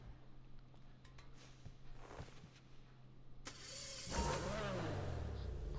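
A Progen PR4 open-wheel race car engine in GTA Online idles with mechanical clatter, then revs up loudly near the end, the pitch rising and falling in a sustained, close roar.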